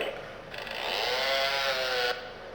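Chainsaw weapon in the Brutal Doom 64 video game, a sustained buzzing, rasping motor whine rising and then cutting off abruptly after about two seconds, moderately loud with no speech.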